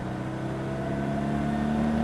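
A car engine droning steadily and rising slightly in pitch as it accelerates at full throttle, heard from inside the vehicle with a constant hum.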